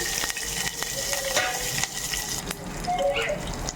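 Tempering spices and curry leaves sizzling in hot oil with turmeric and salt, a loud crackling fry with sharp pops and spatters close by, plus the scrape of stirring in the pan.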